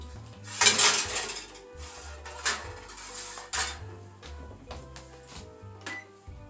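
A small, long-used metal baking pan is handled while Camembert cheese is readied for the oven, giving a loud clatter near the start and then several lighter clinks and knocks over a low background hum.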